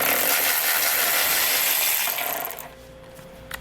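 A socket tool with an extension removes 15mm nuts from the bumper beam of a 2021 Tesla Model Y. It gives a loud, steady whirring buzz for about two and a half seconds, then stops, leaving faint clicks.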